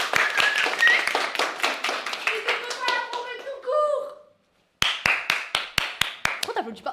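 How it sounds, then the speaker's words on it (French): Hand clapping for Crimo during a casual livestream, a series of sharp, fairly close claps broken by a short silence, with voices talking between the bursts and a voice among them. "Je vais tous vous demander d'applaudir Crimo qui a battu son record."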